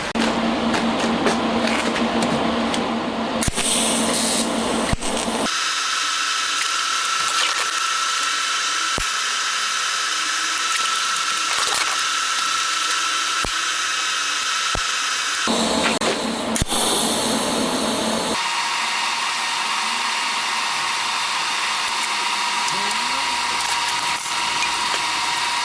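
A bearing housing is welded to a base while a crankshaft polishing tool is built for a handmade 125cc four-cylinder 16-valve engine; loud continuous buzzing hiss of welding, switching on and off in long runs with brief pauses, close and steady.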